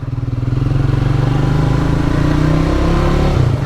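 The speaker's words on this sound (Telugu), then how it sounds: "అందుకే ఇంజన్ రంబ్లింగ్ సౌండ్ వింటుంటే" A Triumph motorcycle engine rumbles steadily and loudly up close, a deep continuous throb with a slight rev on a ride near Hyderabad, with no talking.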